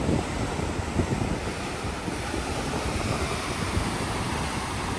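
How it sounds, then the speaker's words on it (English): Steady blustery wind roaring by the sea with waves rumbling underneath, continuous and fairly loud, growing colder, no voices. "It's starting to get more windy,"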